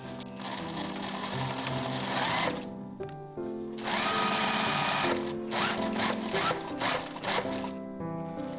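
A sewing machine runs in bursts while stitching a seam pocket, fast rhythmic needle chatter stopping briefly around the middle and resuming, close and clear with no voices.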